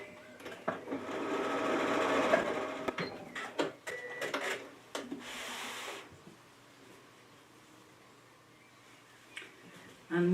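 A sewing machine stitches fabric pieces together for a Japanese knot bag, whirring in a close run of about six seconds with short stop-start bursts, then going quiet apart from faint handling.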